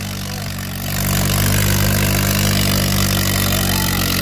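A Mahindra 575 tractor pulling two harrows in a field, its engine loud and close, rising after the first second into a sustained heavy labouring drone that holds steady to the end.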